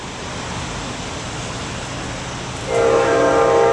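A southbound Amtrak passenger train pulls into a station on a rainy day, its loud horn sounding over the steady rumble of rail noise and rain for the last second or so.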